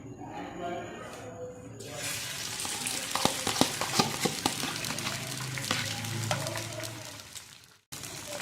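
Beaten eggs seasoned with black pepper and salt poured into a hot pan for a thick omelette: a bright, continuous sizzle rises suddenly, with scattered pops and stirring scrapes, then cuts out near the end.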